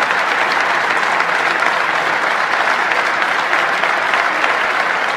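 Loud, dense applause from a large crowd at a televised talent-show final, a steady unbroken wash of many hands clapping that holds at full strength throughout, with no talk over it.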